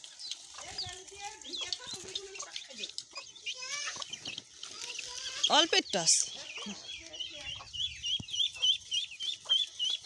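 A flock of ducks is let out and driven toward a river, giving scattered quacks and fowl calls mixed with a few bird chirps, with people talking nearby throughout.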